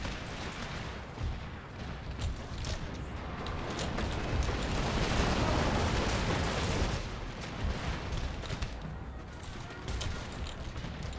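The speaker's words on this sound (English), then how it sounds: "So our cannons are still going to be focusing these guys over here." Cannon and artillery fire booms in a black-powder-era battle in Empire: Total War, with a steady rumble of shots and bursts that swells in the middle and continues throughout, with no talk over it.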